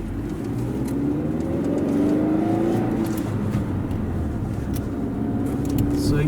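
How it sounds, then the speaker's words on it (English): Car pulling away from a stop, with the engine note rising as it accelerates, heard from inside the cabin at a fairly steady, moderate level. "And now we can start driving."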